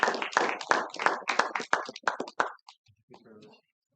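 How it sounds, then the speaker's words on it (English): Clapping at a hacking workshop session, a small group's sparse, uneven claps of a dozen or so distinct strikes close by, fading out, followed by a brief murmur of voice. "Can we have a round of applause,"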